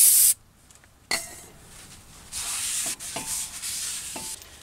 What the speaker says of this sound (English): I'm going to hit the back side of this with some brake clean before I put it on.